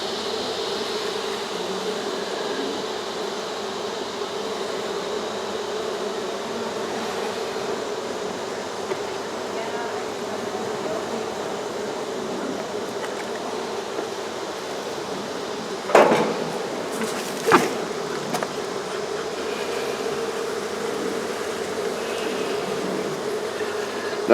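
Honey bees hum in a steady, faint swarm drone during a hive removal, with a couple of sharp knocks partway through.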